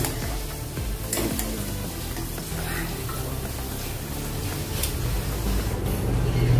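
Raisins frying in hot oil in a pan for a crisp raw-potato chivda fasting snack, giving a steady close sizzle with faint stirring scrapes throughout.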